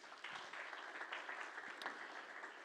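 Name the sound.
audience applauding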